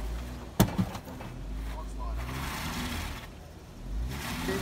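A Jeep four-wheel driving on a club trail at Yalwal, its engine rumbling and swelling under load, close and steady, with a sharp knock early on and people talking over it.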